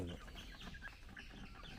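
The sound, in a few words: chicken clucking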